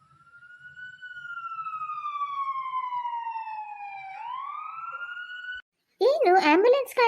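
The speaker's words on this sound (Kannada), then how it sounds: "ಆಂಬ್ಯುಲೆನ್ಸ್ ಗಾಡಿ ಅಲ್ಲ, ಪೊಲೀಸ್ ಗಾಡಿ ಬಂದಿದೆ ಒಟ್ಟಾರದ ಮುಂದೆ" A cartoon police vehicle siren sounds as one long, loud electronic wail that slowly dips and then rises. After a brief gap, a voice starts speaking.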